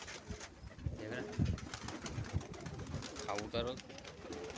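Pigeons coo softly in the bushes amid outdoor ambience, with people talking over them.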